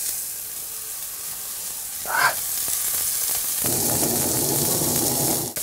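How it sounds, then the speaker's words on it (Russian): A burger bun toasts in a steel frying pan with a steady, close sizzle that rises noticeably louder partway through, with a brief brighter hiss burst in the middle. "Так, булка дожаривается."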